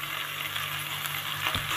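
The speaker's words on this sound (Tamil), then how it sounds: "நல்லா பொரிஞ்சு வரட்டும்." Steady, close sizzling of onions and spices frying in hot oil for Tamil vada curry, a continuous crackling hiss with no talking.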